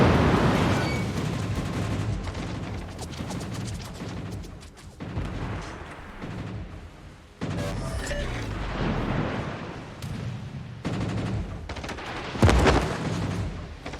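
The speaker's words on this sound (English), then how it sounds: "Colbert's landed some shots, but that's pretty extreme range for a Colbert" The Colbert fires at extreme range in a ranked video game battle, producing heavy booming gunfire in dense, overlapping bursts that stay loud throughout, with a sharp louder blast near the end and no voices.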